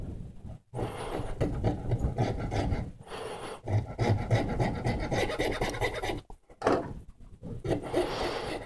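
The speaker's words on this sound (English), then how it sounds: "Small hacksaw, cut it off." A small hacksaw cuts through a drone antenna held in a makeshift vise, giving a steady, rasping back-and-forth stroke close to the mic with short pauses between runs.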